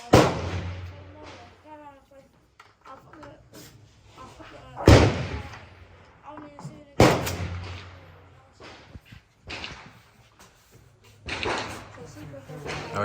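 AR pistol gunshots outdoors, several loud sharp reports spaced unevenly with echoing tails, mixed with close talking between the shots.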